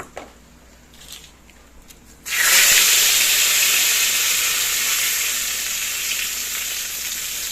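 Whole garam masala, cumin, chili and bay leaf dropped into hot mustard oil burst into a loud, sudden sizzle that settles into steady crackling frying, after a few quiet kitchen clinks.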